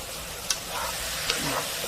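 Zucchini stir-fried with salted shrimp in a pan, sizzling and frying steadily at close range with a couple of light utensil clinks, no voices.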